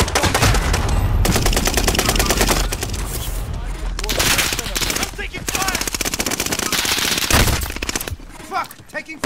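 Dense automatic gunfire from the shooter game Call of Duty: Modern Warfare, loud rapid bursts of machine-gun fire and single cracks overlapping almost continuously, with a voice shouting in between.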